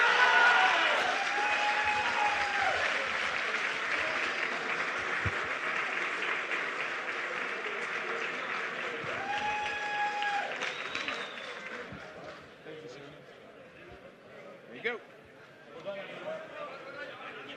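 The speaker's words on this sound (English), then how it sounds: "Let's give another big round of applause as they're walking up here" Audience applause fills an award ceremony hall at a Formula SAE Michigan design event, steady clapping from a crowd with a voice speaking over it through amplification, tapering toward the end.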